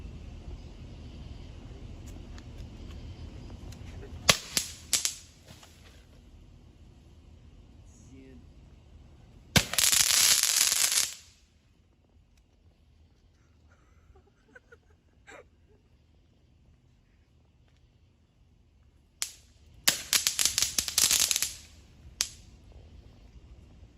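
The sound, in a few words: Pop-Its TNT snappers exploding inside a piñata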